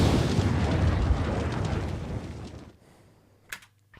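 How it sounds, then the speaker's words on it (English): Layered gun sound effect with fireball-like explosion sounds for a Westworld scene: a loud, dense roaring burst that decays over about three seconds, followed by two short sharp cracks in near silence. "So we've got two sounds that have like fireball-y kind of sounds."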